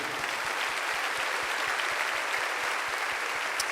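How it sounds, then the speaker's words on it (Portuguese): A church congregation applauds steadily during a worship service, a dense, even wash of many hands clapping close and loud, with a regular low rhythmic thump running underneath throughout. "enquanto a gente aplaude o Senhor"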